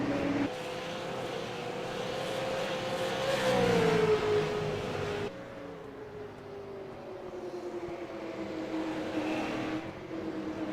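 Stock cars race in a sim racing game, engines droning loudly and then receding as a car passes with a falling pitch, a steady mid-distance roar continuing afterward.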